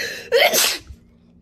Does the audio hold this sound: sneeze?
yes